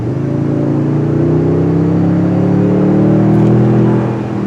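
A 2022 Toyota Tundra 1794 CrewMax's V6 turbo engine revs up under hard acceleration, a loud, muffled droning rumble rising steadily in pitch with a faint whirring edge.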